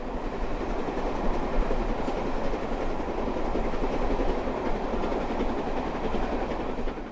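A steam-hauled passenger train runs along the rails, heard from inside a coach as a steady, loud rumbling roar with faint rhythmic clatter from the wheels and no break in the noise.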